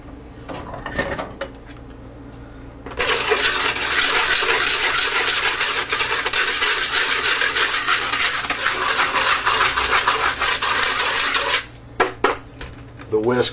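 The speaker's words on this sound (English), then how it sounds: "The whisk breaks up the brown sugar really well" Whisk beating brown sugar into a meatloaf mixture in a bowl, a dense continuous scraping rattle lasting about nine seconds, with lighter clinks of utensils before and after, close by.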